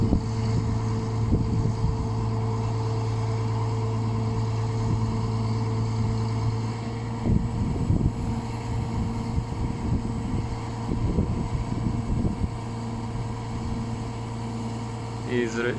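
A Tadano TL250E crane's engine idles with a steady droning hum and tonal whine as the boom is lowered, heard up close with someone talking over it and occasional clunks.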